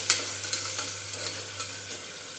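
Potatoes being stirred in a pan over a low gas flame, a steady soft sizzle with a few light scraping strokes, close and continuous with no voices.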